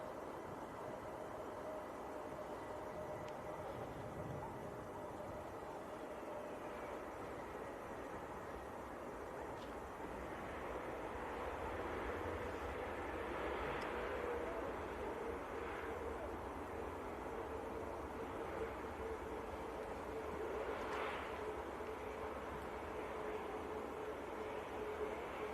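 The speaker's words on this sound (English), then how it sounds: "So this is a A320neo from Faro." An Airbus A320neo arriving from Faro at Manchester Airport, a faint, distant jet rumble that swells gradually and holds as a low, steady roar under outdoor background noise.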